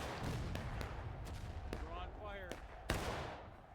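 Sharp cannon booms from the Manassas Campaign video game land in a rough series of five separate bursts, a steady background rumble and a talking voice running under them.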